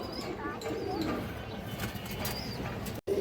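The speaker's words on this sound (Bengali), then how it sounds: "এই দেখেন দর্শক সায়াসের একজোড়া কবুতর আছে" A pair of pigeons coo softly and repeatedly close by, with faint wing flutters against a busy outdoor background hum, ending with a brief dropout.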